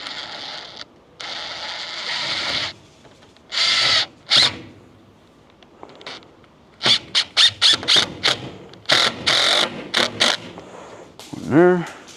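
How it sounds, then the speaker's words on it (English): A power drill drives screws into a wooden display roof frame, whirring in several short bursts separated by pauses, with one screw squealing as it seats near the end. "I'm going to just put a couple screws in here."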